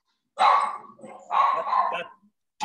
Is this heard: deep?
yes